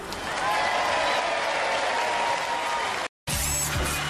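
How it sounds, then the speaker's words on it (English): A crowd applauds during a Nickelodeon Robot Wars robot combat show, with steady, dense clapping for about three seconds, then a brief gap before clapping resumes with some crowd noise. "Round of applause for Basenji."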